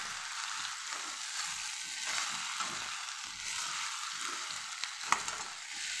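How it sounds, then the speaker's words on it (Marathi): Okra sautéed with tomato in a pan, heard as a soft, continuous sizzle with irregular scraping and stirring noises that rise and fall, plus one brief sharp clink near the end; no one speaks. "आपण यामध्ये टाकून घेऊ ही भेंडी. एवढं याला मी असं परतून घेते."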